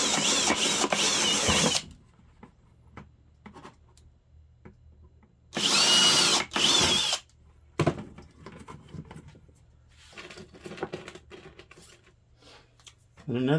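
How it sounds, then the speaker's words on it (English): A power drill bores two small holes through a plastic pipe for a 5-gallon hydroponic setup, in two loud whirring bursts separated by quieter handling noises and occasional talk. "I'm going to drill me 2 little holes on each side of this pipe."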